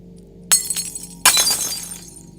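Two drinking glasses slip while dishes are being washed and smash one after the other, a sharp crash followed by a bright, scattering shatter with tinkling fragments that fade out, close and loud in a quiet room.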